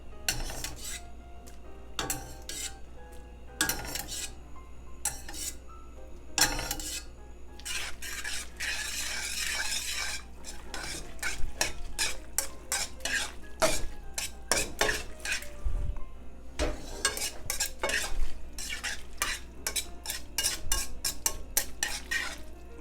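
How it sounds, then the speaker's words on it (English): Spaghetti with clams, porcini and cremini mushrooms is tossed and stirred in sauce in a pan. Repeated close scraping and clinking of utensil and shells ride over a soft sizzle for a long stretch. "we're going to bring our pasta in and finish cooking it in this sauce"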